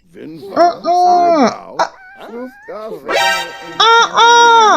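Cartoonish cat meows from The Sims 4, several drawn-out, wavering calls in quick succession, loud and close, with no talk over them.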